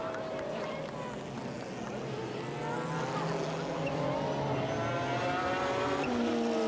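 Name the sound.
GT race cars racing, Toyota Supra and McLaren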